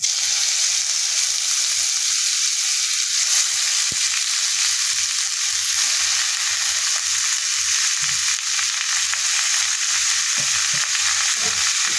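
Ash gourd pieces sizzle steadily in a pan of oil tempered with mustard, radhuni, bay leaf and chilli, a loud continuous frying hiss with soft scraping stirs underneath and no talking.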